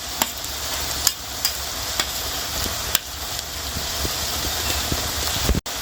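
Garlic and ginger paste hits fried onions in a pan for a Bengali mutton curry, giving a steady sizzle and crackle of frying broken by periodic sharp scrapes and taps of a stirring spoon.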